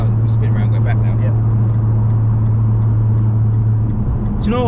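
A salvage Nissan GTR idling and driving slowly with a steady low engine hum, a voice speaking briefly over it, then a rising tone near the end as it turns around.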